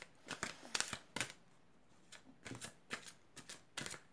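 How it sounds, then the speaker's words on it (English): A John Holland oracle card deck being shuffled by hand: quiet, crisp riffling bursts separated by short pauses, close by and faint. "So we're going to take a card from the John Holland deck"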